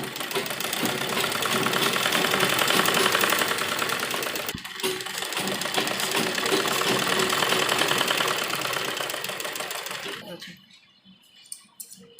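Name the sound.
sewing machine stitching fabric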